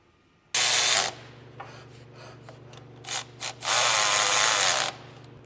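A ratchet clicks rapidly in two long bursts while tightening bolts on a Humvee geared hub, with a few shorter clicks and clanks between them, close and loud.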